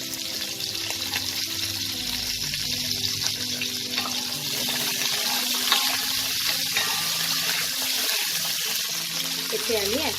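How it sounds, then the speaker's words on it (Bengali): Long strips of cauliflower fry in hot oil left over from frying fish for a Bengali fish curry, a steady close sizzle and crackle running throughout with faint clinks underneath. "ফুলকপিটা ভাজবো।"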